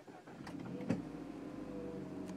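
A 2014 MINI Paceman S ALL4 started by push button, with a faint whir and a quick thump as the engine catches, then a low steady idle hum.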